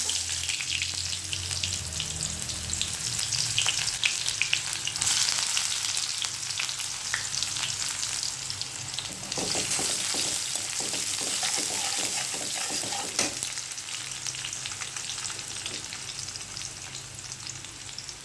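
Chopped onion frying in hot oil seasoned with panch phoron, a steady close sizzle running throughout with brief stirring scrapes and crackles partway through, no voices.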